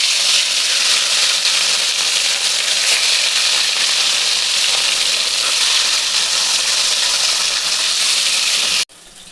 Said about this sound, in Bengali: এবার আমরা কি মাছটাকে ফ্রাইয়ের জন্য ছেড়ে দেবো কড়াইতে।